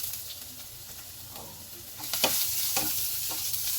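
Vegetables stir-frying for pansit guisado, a steady hiss of sizzling oil with scattered scrapes and clinks of stirring, growing a little louder partway through; no one talks.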